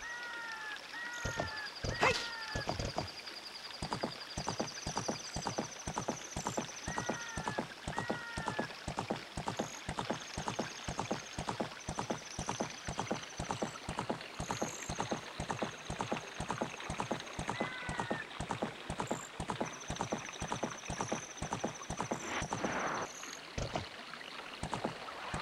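Steady, evenly spaced hoofbeats of a horse trotting in the video game The Legend of Zelda: Ocarina of Time, crisp and rhythmic throughout, with brief game chimes and effects over the top.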